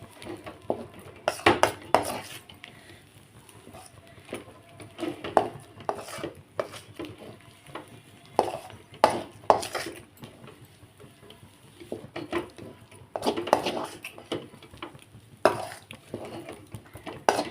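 A utensil scrapes and clanks repeatedly against a heavy, wide pot while stirring kara kozhukattai dough over low heat, irregular strokes, close by, with no talking.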